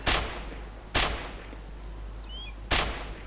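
Three sharp gunshots in the video game DayZ, the first two close together and the third after a longer pause, each a loud crack with a short decay over a low steady hum.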